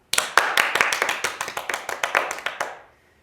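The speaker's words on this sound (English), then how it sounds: "How about we give a huge round of applause to everyone?" A small audience at a Lunar New Year celebration show claps after the performances, about a dozen distinct, crisp, near claps in an uneven rhythm that stop abruptly, leaving silence.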